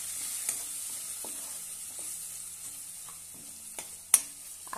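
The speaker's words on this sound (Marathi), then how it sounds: "एक चमच धनेपूड, चवीनुसार मीठ आणि छानपैकी परतून घेऊया।" Vegetables sauté with coriander powder and salt in a pan, a soft sizzle under repeated scraping strokes of a spoon, close and fairly quiet, with one sharper clack near the end.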